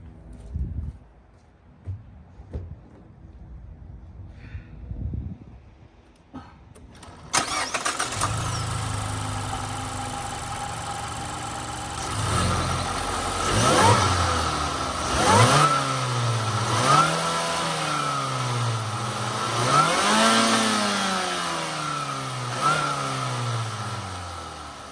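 A Mazda 3 engine fitted with a K&N drop-in air filter cranks and starts, then idles with a faint supercharger whine and rises through several loud, close revs whose whine swells and falls with each throttle blip.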